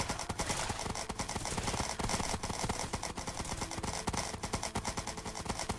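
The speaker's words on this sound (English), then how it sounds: "Oh, Jesus, a horse." Horse hooves clip-clop in a Minecraft minigame, a quick steady trot running under dense, loud game music and effects throughout.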